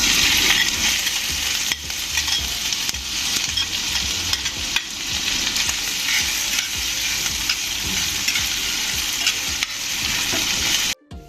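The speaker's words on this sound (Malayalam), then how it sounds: "നേരത്തെ അരിഞ്ഞു വെച്ചിരുന്ന ഇഞ്ചി നമുക്ക് ഇതിലേക്ക് ചേർത്ത് ഒന്ന് വറുത്തെടുക്കാം" Steady, close sizzling of chopped ginger frying in hot oil in a pan, a continuous crackle with occasional stirring, ending abruptly.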